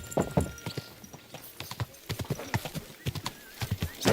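A horse's hooves clip-clop in a quick, even rhythm in Kingdom Come: Deliverance II, close and distinct throughout, with a brief whinny mixed in.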